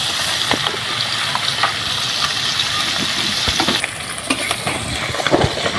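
Whole puti fish fry together in hot oil until red and crisp, giving a steady, dense sizzling hiss with scattered pops and crackles throughout.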